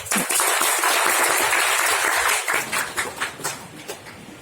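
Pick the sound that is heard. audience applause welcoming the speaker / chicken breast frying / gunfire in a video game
audience applause welcoming the speaker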